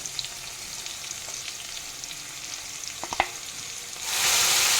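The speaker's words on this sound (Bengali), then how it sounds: "আদাটা আমার ভাজা ভাজা হয়ে গেছে" Ginger paste fries in a pan with a steady, soft sizzle. A couple of brief stirring clicks come near the end, then the frying swells to a louder, brighter hiss.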